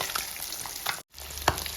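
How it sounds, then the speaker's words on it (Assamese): Fish pieces frying in a pan until golden brown, a close continuous oily sizzle with small crackles, a brief dropout in the middle and one sharper pop just after. "এতিয়া মই এইকেইডোখৰ ধুনীয়াকৈ গল্ডেন ব্ৰাউন হোৱালৈকে ফ্ৰাই কৰি ল'ম"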